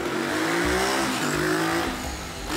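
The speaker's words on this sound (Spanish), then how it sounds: "pensé que esa moto te iba a atropellar" A motorcycle engine roars past on a city street, loud and close, with revving surges and a shifting pitch as it goes by.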